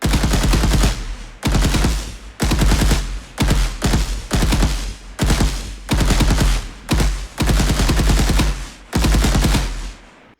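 Rapid automatic gunfire from an Unreal Engine third-person shooter game, loud bursts of rattling shots repeated about a dozen times with brief gaps between them, no voices.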